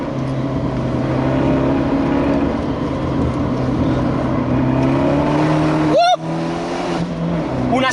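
An Abarth 124 Spider drives along with a steady, droning engine note heard from inside the cabin, its pitch rising slowly, with a brief shift or throttle blip near the end.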